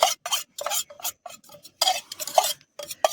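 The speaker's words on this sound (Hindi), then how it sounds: "चम्मच से मिक्स कर सकता है" A spoon mixing a paneer tikka marinade with oil in a bowl at an outdoor waterfall-side cookout, quick repeated wet scraping strokes in irregular bursts, close and with no voices.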